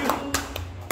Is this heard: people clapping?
yes